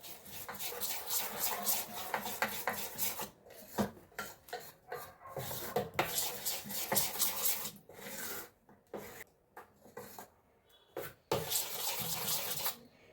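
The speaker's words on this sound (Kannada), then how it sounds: "ಮೊದಲಿಗೆ ನಾನು ಇದನ್ನು ಮಿಕ್ಸ್ ಮಾಡ್ಕೊತೀನಿ." Sandwich batter is mixed in a bowl, giving a steady scraping, rubbing rasp in quick repeated strokes, with brief pauses and a few sharper knocks, close and fairly quiet.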